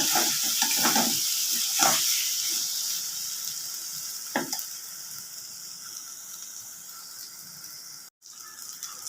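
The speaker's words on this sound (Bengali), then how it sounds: "আলুটা দিয়ে এবার ভালো করে ভেজে নেব মশলাটা ভালো করে এবার কষিয়ে নিচ্ছি" Potatoes frying in a spice masala in a pan, a close, steady sizzle with a few scraping stirs early on that fades gently over time, with no talking.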